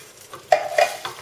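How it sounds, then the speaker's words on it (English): A spoon stirs stock into a soup pot holding leftover tomato for a rosemary, pumpkin and chickpea winter soup, giving a few close scraping clinks against the pot over a soft simmering background. "I often just put some of the stock in there and stir it around and use up the rest of the tomato"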